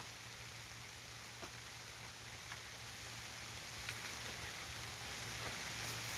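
Rain falling on a soybean field during a heavy downpour, a steady, even hiss of drops spread across the whole clip, continuous and fairly faint, with no voices.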